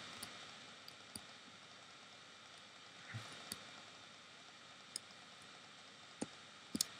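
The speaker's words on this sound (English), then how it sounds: "Sorry for the massive clicking noise," Pistons in a semi-automatic wheat farm build give off quiet, sharp clicks at irregular intervals over a faint steady hiss, with a small cluster near the end.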